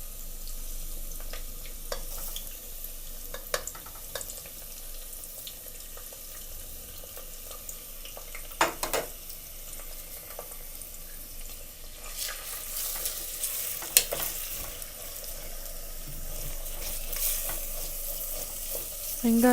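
Onions and green chillies frying in a pot for mutton dum biryani: a steady close sizzle with scattered scraping clinks of stirring throughout.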